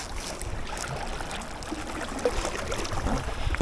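A kayak paddle dips steadily into river water, giving continuous close splashing and trickling with a gurgling wash around the boat and a sharper splash at the very end.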